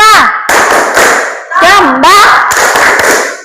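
A classroom of children claps a quick rhythmic pattern for the math clap chant, with sharp, loud bursts of group claps in short phrases while voices chant along.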